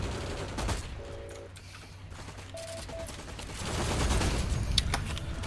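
Bursts of rifle and machine-gun fire from the online shooter game Heroes & Generals crackle throughout, easing briefly in the middle before swelling again into heavy, continuous shooting.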